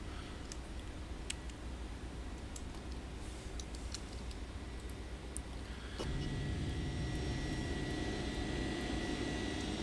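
Jet engines of a Boeing 767 freighter climbing after takeoff in the X-Plane flight simulator, a steady roar that swells louder partway through, with faint clicks over it.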